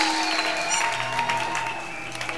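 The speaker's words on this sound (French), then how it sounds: "Acclamez fortement le Seigneur Jésus" A church congregation claps and cheers loudly as one sustained wash of applause, with a few voices and tones ringing through the crowd noise.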